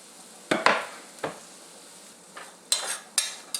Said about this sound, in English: I'm going to add these potatoes in there and just fry them a little bit.